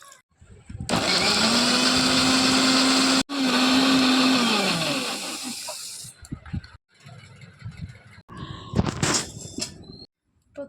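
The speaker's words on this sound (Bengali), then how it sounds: "এবার মশলাটা মিক্সিতে করে নেব।" A mixer grinder whirs loudly for about five seconds grinding cumin, ginger, garlic, dried chili and onion, cutting out briefly once and then winding down. Clattering and handling noises follow.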